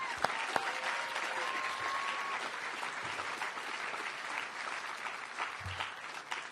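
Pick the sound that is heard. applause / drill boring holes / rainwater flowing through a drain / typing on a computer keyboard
applause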